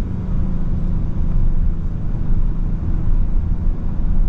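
A 2024 Lincoln Nautilus Hybrid SUV pulls away and drives off, its low steady rumble and road noise filling the cabin at a constant, moderately loud level with no talking.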